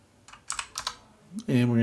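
Typing on a computer keyboard: a quick run of crisp, close keystrokes clatter in an uneven rhythm, then a voice starts speaking at the end.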